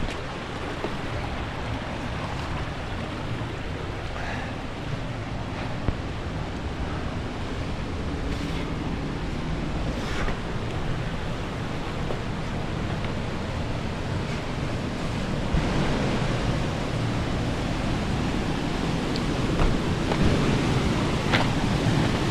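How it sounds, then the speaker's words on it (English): A waterfall on Chinook Creek pours with a continuous, even roar of rushing water, close and steady throughout with no voices. "another waterfall."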